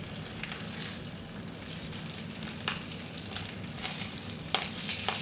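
Duck confit and Sarlat-style potatoes sizzle steadily in a frying pan, a continuous close crackle with a few sharper spits and a brief scrape of the pan being moved.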